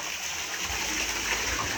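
A waterfall beside a river, swollen after rain, gives a steady broadband rush of falling water, loud and continuous without a break.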